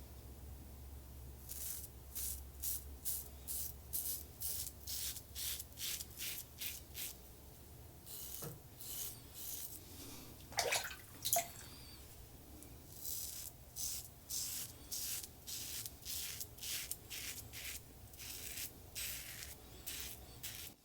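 Aluminum safety razor scraping across a head during a first shaving pass: a long run of short, repeated rasping strokes in a steady rhythm, close and fairly quiet, with a low steady hum beneath at first and no talking.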